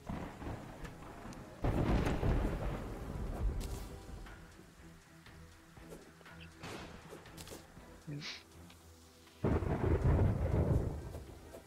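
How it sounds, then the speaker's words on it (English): Rain and thunder in the video game Terraria, with bursts of rumbling thunder rising over a steady hiss of rain and quieter stretches between claps. "Because rain in Terraria is loud."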